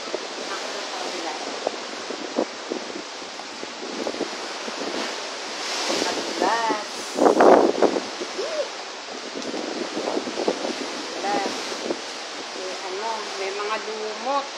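Strong ocean waves surge and boom against rock at a sea cave in Cape D'Aguilar Marine Reserve, Hong Kong, with wind buffeting the microphone, while a person talks over the roar, peaking in one heavy crash.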